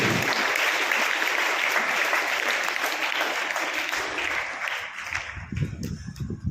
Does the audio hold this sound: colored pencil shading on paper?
no